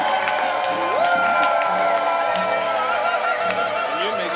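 A crowd at a closing event cheers and whoops with clapping mixed in, a loud, continuous mass of voices with rising shouts and some scattered chatter.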